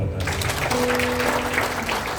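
A congregation at a church revival meeting in Malang claps, a dense, continuous wash of hands throughout, with a faint sustained tone running underneath.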